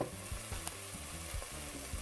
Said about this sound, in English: And this tomato. Now mix it well.